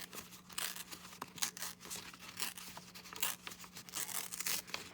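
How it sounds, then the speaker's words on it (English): A collaged paper page in a handmade junk journal torn slowly by hand, a close, continuous run of crisp ripping bursts and crinkles with no talking. "I think I'm gonna tear right along here."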